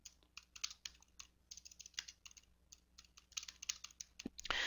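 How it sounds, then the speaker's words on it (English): Typing on a computer keyboard, a quiet, uneven run of close key clicks and taps with short pauses, ending in a slightly louder keystroke. "Then I'll hit Enter and start typing."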